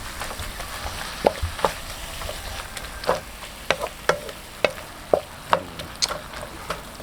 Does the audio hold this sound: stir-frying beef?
yes